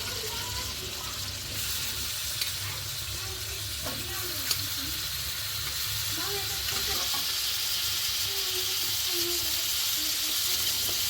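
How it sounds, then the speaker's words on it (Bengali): Boiled quail and chicken eggs fry in a pan with a steady, faint sizzling hiss that runs throughout, with a couple of tiny clicks. "এখন এটাকে ভেজে নিব, একে একে সবগুলো ডিম ভেজে নিব।"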